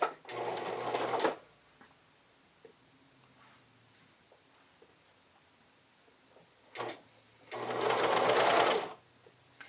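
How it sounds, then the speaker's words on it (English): A sewing machine stitches a bust dart in two short whirring bursts, one at the start and one near the end, with near quiet and a faint click between them. "I'm going to go ahead and just run that through my sewing machine."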